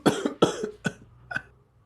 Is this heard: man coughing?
yes